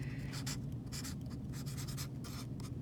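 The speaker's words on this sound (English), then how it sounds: "And then you'll write your name." A gold Sharpie marker writes a name on tape stuck to the body of a film developing tank: soft, close scratchy strokes in a few short bursts over a faint steady hum, quiet and without speech.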